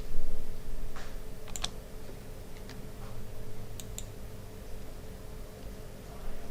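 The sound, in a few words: computer keyboard shortcuts being typed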